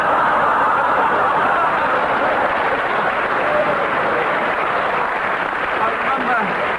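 Sustained broadband wash of studio audience applause at a 1972 BBC radio comedy panel show recording, steady and loud throughout with no clear breaks.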